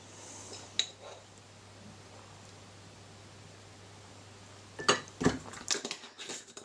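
A spoon clinks against a bowl in a few bright, close taps while neutral henna powder is measured in, after a quiet stretch of steady background hiss.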